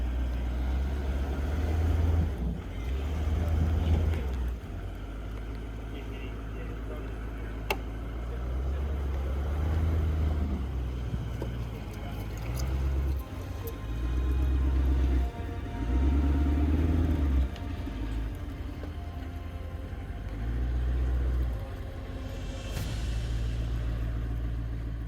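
A Toyota 200 series 4WD with automatic transmission and traction control crawls through a rut, its engine rumbling low and steady with surging throttle swells.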